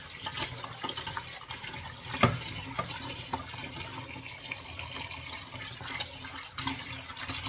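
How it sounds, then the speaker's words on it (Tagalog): Tap water runs steadily while fish are rinsed in a sink after being rubbed with salt, a continuous splashing wash with occasional small knocks and clatters, fairly faint and with no talking. "tapos hugasan natin mga lalabs sa tubig"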